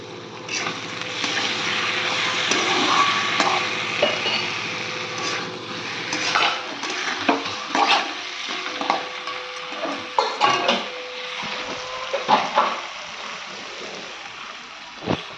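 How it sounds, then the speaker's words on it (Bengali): Meat is browned and stirred in a hot pan on a home stove: a steady sizzle first, then a spatula scrapes and clatters against the pan in irregular knocks. "যে এখানে মাংস কষিয়ে নিচ্ছি।"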